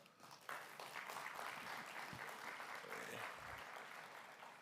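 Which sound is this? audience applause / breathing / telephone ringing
audience applause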